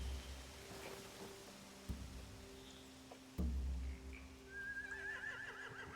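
A horse whinnies loudly in The Walking Dead video game, a rising, wavering neigh near the end that follows a low ambient drone and a couple of soft thuds.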